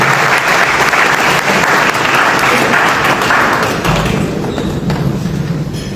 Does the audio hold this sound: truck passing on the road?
no